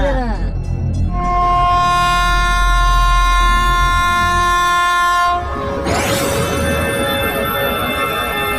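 A loud, sustained train horn blares for several seconds, then gives way to the heavy rumble and clatter of a train rolling close by.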